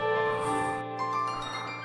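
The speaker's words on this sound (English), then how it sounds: "So N-Color would sound like this on C major." A synthesized tone from the N-Color plugin sounds on a C major chord, a soft sustained harmonic pad held evenly for a couple of seconds without speech.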